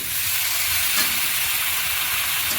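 Water goes into a pan of fried, well-cooked spice paste for a koi fish and cauliflower curry, setting off a loud, steady hiss of sizzling and steam that holds evenly throughout, with no voices.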